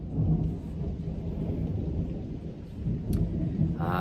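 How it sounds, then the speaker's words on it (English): A thunderstorm with a deep, continuous rumble of thunder and steady rain, loud and close and heard alone without any voices. "The storm is just getting"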